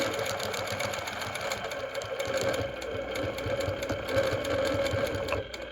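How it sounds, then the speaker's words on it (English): Sewing machine doing free-motion quilting on a hand-embroidered, hand-pieced quilt: a steady, close, rapid needle-driven hum running unbroken with no voice, fading at the very end. "I do try to stitch over those beginning stitches just a little bit"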